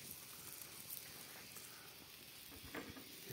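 Chili and marinated tomato roasting over an open fire in a garden, a dense, steady crackle and sizzle with faint popping, low and continuous the whole time.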